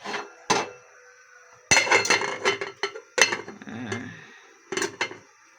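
Metal cookware clanks and scrapes in several bursts as a lid is set onto a pot of sticky rice champorado on the stove, close by with short quiet gaps between.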